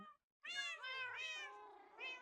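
Minecraft cat meowing in a series of clear, close, drawn-out mews, three or four in a row after a brief silence at the start, with no talk over them.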